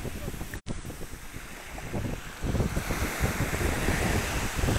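Powerful water and waves rush and roar nearby in a continuous wash that swells louder partway through, with wind buffeting the microphone.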